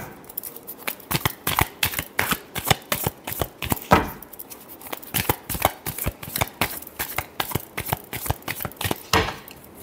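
Tarot cards being shuffled in dense, rapid bursts of riffling snaps and soft slaps, close and steady throughout with brief pauses between flurries.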